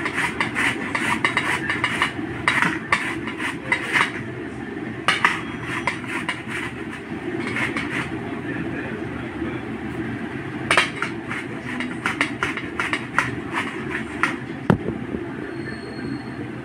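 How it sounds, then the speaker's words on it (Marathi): Raw mango, peeled, rubbed over a hand grater in a home kitchen, giving steady rasping scrapes with a quick repeated rhythm, close and fairly loud, with no talking. "आता मी किसून घेते."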